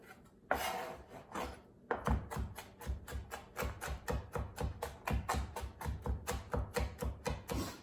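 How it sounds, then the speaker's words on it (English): A knife rapidly chops garlic on a cutting board for mini spinach patties, with a brief pause and then a steady run of close, sharp, rhythmic taps that continue to the end. "I'm gonna move my knife back and forth and just slice this up"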